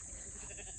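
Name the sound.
sheep bleating on farm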